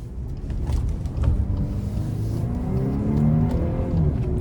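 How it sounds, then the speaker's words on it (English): A 2024 Volkswagen Atlas SE Peak Edition pulls away on a road test, engine revving up steadily and rising in pitch as it accelerates, heard from inside the cabin with no talking. "let's go ahead and take this 2024 Volkswagen Atlas out on the road for a test drive"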